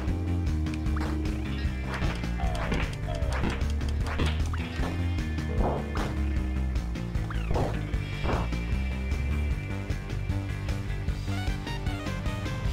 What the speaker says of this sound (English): This dog seems eager to see humans.